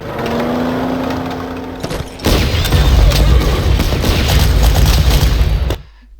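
A 10.5 cm artillery piece firing in a World War II strategy video game: a loud, sustained rumbling barrage with a broad low roar lasting several seconds, then an abrupt cutoff.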